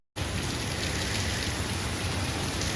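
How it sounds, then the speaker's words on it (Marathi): Steady rain pours down during a wet Diwali outing, a dense, even wash of hissing noise that starts abruptly and holds constant, close and moderately loud, with no voices. "दिवाळीत पण पाऊस पडतोय"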